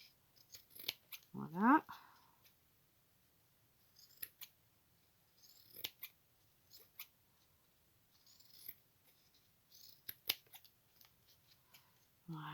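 Scissors cut through an empty cardboard roll in one short, close snipping burst near the start, followed by faint scattered handling sounds, with brief speech in the clip.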